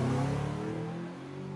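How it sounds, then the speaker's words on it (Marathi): A car speeds away along a road, a broad rushing engine and road roar that stays loud and steady, easing slightly as it pulls off. "आणि पुढच्याच सेकंदाला गाडी वाऱ्याच्या वेगाने रस्त्यावर धावू लागली"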